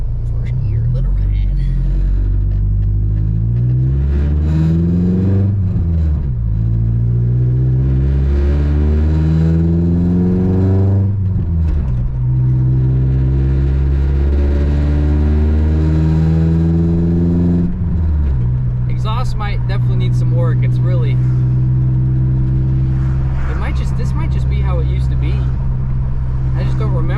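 A truck engine pulling in first gear, loud and close, revving up repeatedly through rising pitch sweeps with shifts between, a rumbling drive with a person talking over it at times.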